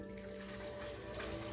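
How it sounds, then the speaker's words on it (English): Hot water poured steadily into a jug while making an aloe vera and fresh ginger health juice, a continuous close gurgling stream with a low hum beneath it and no talking. "I'm going to pour more hot water."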